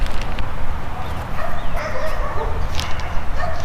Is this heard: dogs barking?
yes